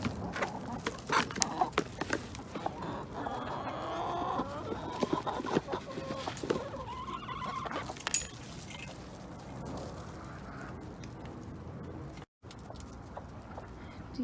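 Chickens cluck and murmur in a garden coop, with repeated close clucks and short calls over a soft outdoor background, steady throughout without talking.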